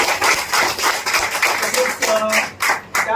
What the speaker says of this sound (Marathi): तर त्यासाठी एकदा त्यांच्यासाठी टाळ्या झाल्या पाहिजे